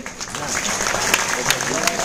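Audience applause during a cake celebration at a mega seminar in Ahmedabad, a steady wash of clapping with sharp individual claps popping through, fairly close and continuous.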